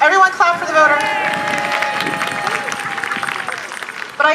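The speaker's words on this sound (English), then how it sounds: "Everyone clap for the voter." Crowd at an outdoor women's march in Scituate breaks into brief, scattered clapping and a few cheers, layered under an amplified speaker's voice that continues throughout.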